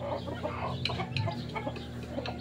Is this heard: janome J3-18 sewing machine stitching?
no